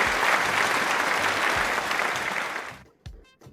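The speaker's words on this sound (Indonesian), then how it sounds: "Boleh dong tepuk tangannya lagi buat Zaki." A studio audience applauds a guest speaker on an Indonesian talk show, dense loud clapping that holds steady and then thins out into a few last scattered claps at the end.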